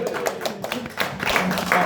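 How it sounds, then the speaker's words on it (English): A pub audience at a live football talk show in a Tynemouth surf cafe claps and cheers for a guest, a short burst of close applause with a voice over it. "A big cheer for John Anderson!"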